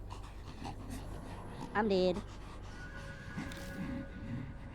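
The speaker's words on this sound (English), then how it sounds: "I hear creepy breathing behind me." Heavy, creepy breathing creeps up behind the player in the horror game Spirit Hunter: Death Mark, a panting rasp under game ambience, with a louder voiced moan midway while a person talks over it.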